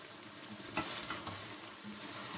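Mutton frying in oil in a pan for karhai, a steady soft sizzle with a few stirring scrapes and clinks, close and alone without talk.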